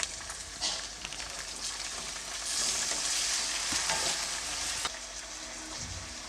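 Green chillies and chopped tomato fry with onions in a pan for masala mandakki, giving a soft continuous sizzle with stirring, swelling midway, and a couple of utensil taps.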